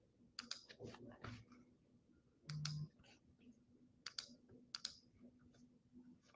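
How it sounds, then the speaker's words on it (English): Faint computer mouse clicks, a handful of sharp taps spaced irregularly in a quiet room, with a soft voice murmuring at low level. "Sorry for all the clicking noise"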